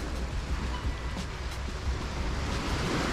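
Waves wash along the shoreline at Demangharjo beach in Tegal, a continuous broadband roar of surf mixed with wind buffeting the microphone, close and steady, with no voices.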